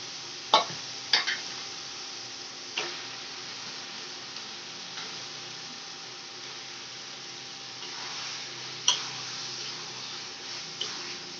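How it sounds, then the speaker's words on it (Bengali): Meat added to spice paste already fried in a pan, a low steady sizzle broken by a few sharp stirring scrapes and taps. "মশলাটা কষা হয়ে গেছে, এর মধ্যে আমি মাংসটা এবার দিয়ে দেবো"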